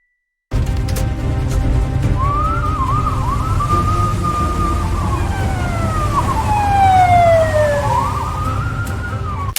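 A police car siren in an AI-generated chase scene wails steadily with rising and falling tones over rumbling road and engine noise. It stays loud and close throughout, with no voices.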